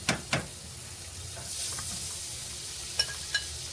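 Grilled cheese sandwich sizzling in margarine in a frying pan, a soft steady hiss with a few quick scrapes and taps of a utensil, fairly quiet and close.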